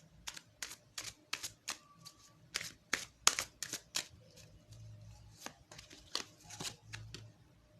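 Tarot cards handled and shuffled by hand, a run of crisp close flicks and riffling snaps in quick irregular bursts, quiet and without talk.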